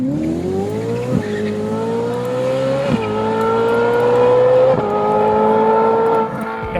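A Ferrari 458 Speciale with its naturally aspirated engine revs hard through several gears, each pull climbing in pitch before a brief drop at the shift, loud and close with a sustained, screaming tone.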